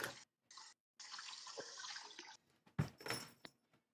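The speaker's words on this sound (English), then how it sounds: "I am washing dishes." Running water from a sink while dishes are washed, coming in several short broadband bursts with brief gaps, fairly close and moderately quiet, with no talking.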